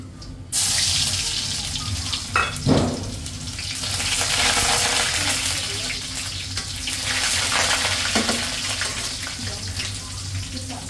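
Steady hiss of cumin seeds and bay leaves sizzling in hot oil for a hilsa fish curry, continuous and fairly loud, with a few clinks of utensils.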